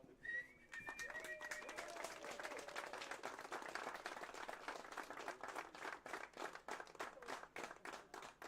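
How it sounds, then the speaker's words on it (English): Steady applause from an audience fills the clip, many hands clapping together, with a few brief voices or cheers at the start. "Give them all a last round of applause"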